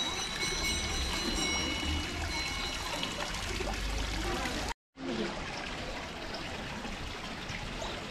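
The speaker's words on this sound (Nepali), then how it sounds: "अहिले चाहिँ अब हामी यहाँ अर्जुनधारामा पानी चढाइरहेछौँ" Water is poured as a temple offering at Arjundhara, Jaleshwardham, making a steady rushing trickle that continues throughout, broken once by a brief silence midway.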